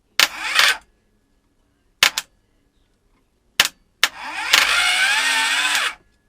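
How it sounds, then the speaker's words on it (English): Engine starter motor cranking with the gearbox fitted to the clutch, several short bursts of whirring cranking separated by silence, ending in a longer sustained run, close and clear. "testing to make sure A, the starter works, which I know it does, and B, that the actual starter, the gearbox has aligned properly with the clutch"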